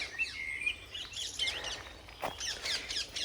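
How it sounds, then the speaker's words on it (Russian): Birds sing and chirp in Richmond Park by the Thames, several overlapping trills and tweets at moderate distance over a soft outdoor background with no talking. "Очень много птиц."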